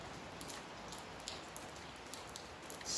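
Steady light rain patters outdoors on a wet day, a soft continuous hiss broken by scattered sharper drips, with no voices.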